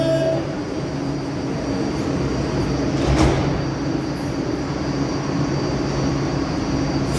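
A metro train runs at an underground station platform, giving a steady rumbling roar of wheels on seamless rails with a brief brighter swell midway, continuous and fairly loud.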